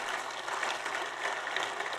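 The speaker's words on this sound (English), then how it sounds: "Let's give them a round of applause." Distant, even audience applause for speakers rolls on at a university general session, a soft continuous patter of many hands.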